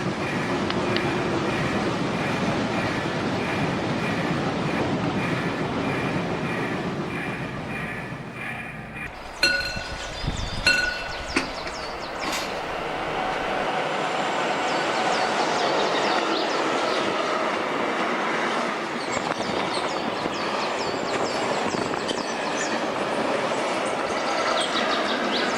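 A freight train in N scale, 1:160, runs through a model railway station on track 3. It is a steady, loud rolling rumble with metallic clinks and clatter that eases off partway through, and no one speaks.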